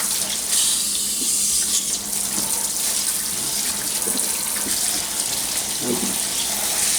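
Steady spray of water from a kitchen sink sprayer during rinsing, a loud continuous hiss and splash close by throughout, with faint clinks and no speech.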